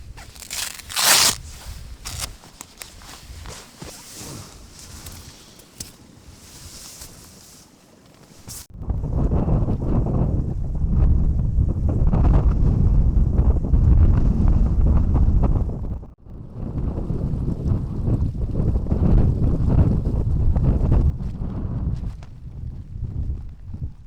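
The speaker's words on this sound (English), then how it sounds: "It's keeping all the wind off the actual tent itself, and it's staying solid." Strong gusting wind batters a tarp pitched over a tent at a wild camp in wind and rain, a steady loud roar with rumbling buffets and flapping, briefly easing midway before surging again; no one speaks.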